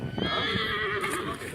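A horse neighs loudly and close by, a drawn-out wavering whinny, while people talk nearby.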